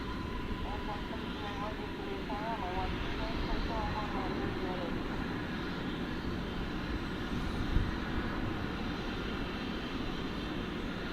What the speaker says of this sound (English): So this is an A321neo from Phoenix.